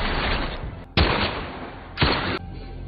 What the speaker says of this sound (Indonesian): Ketika Frank ditembak sampai tewas